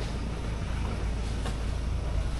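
A motorboat engine on a Philippine boat chugs at a distance, a faint, low rumble under steady wind and water noise.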